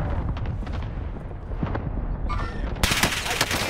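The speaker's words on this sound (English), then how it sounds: "The enemy is firing at me. They're shooting at me from somewhere." Enemy gunfire in a multiplayer shooter: a continuous rattle of automatic shots and distant booms under a faint voice, rising into a sharper, louder burst near the end.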